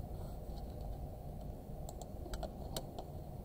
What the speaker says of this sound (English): So I'll type C on the keyboard